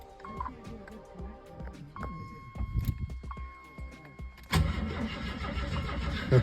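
The starter on an AMC Eagle whose engine is thought to be locked up cranks in short, uneven bursts, with beeping tones early on, then a louder steady cranking roar takes over, with people talking around it.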